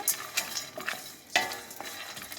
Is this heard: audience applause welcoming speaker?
no